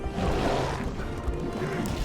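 Dense, continuous crashing and clattering from a hammer smashing enemies in the LEGO The Hobbit video game, loud and unbroken for the whole two seconds with no talk.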